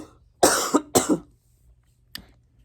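Two close, harsh coughs in quick succession, then a fainter short one a moment later, from a person with a chronic cough and nasal congestion, with quiet room tone between.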